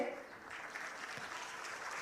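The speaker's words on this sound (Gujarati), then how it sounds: "દરેકને આપણે તાળીઓના ગડગડાટથી વધાવીએ" An audience at a student prize-giving ceremony applauds in a steady, fairly distant patter that stays even for about two seconds.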